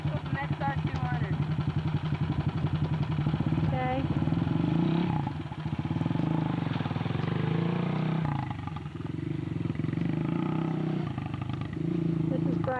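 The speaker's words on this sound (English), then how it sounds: "My motorcycle's an XR200." A Honda XR200 motorcycle engine runs steadily, a close, loud clattering idle with occasional revs and dips, while people talk over it.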